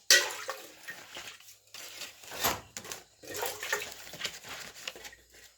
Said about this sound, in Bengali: পাতাটায় জল দিয়ে ধুয়ে তেল মাখিয়ে নেব।